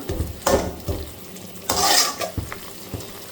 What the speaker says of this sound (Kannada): ಅದಕ್ಕೆ ಸ್ಲೋಗೆ ಇಟ್ಬಿಟ್ಟು ಚೆನ್ನಾಗಿ ಹುರಿಯೋದು